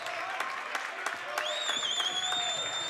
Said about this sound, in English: Crowd's really exhorting the Mustangs on.